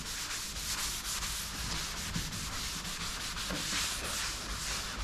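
A microfiber cloth wipes epoxy resto finish across a surface, giving a steady, close scrubbing rub with a rhythmic back-and-forth swish that runs without a break and without any talk.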